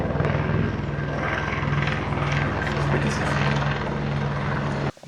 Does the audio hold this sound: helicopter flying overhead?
yes